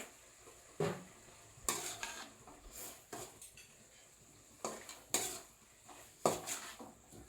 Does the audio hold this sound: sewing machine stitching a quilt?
no